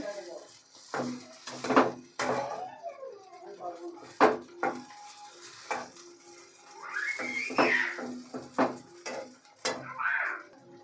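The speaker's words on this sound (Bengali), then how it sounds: "আমি 2 মিনিটের মতো এভাবে ভালো করে সবগুলো কষিয়ে পুরটা রেডি করে নেব।" A spoon scrapes and clatters steadily in a pan while a filling is stirred and fried, with a dog whimpering and barking nearby and someone talking over it.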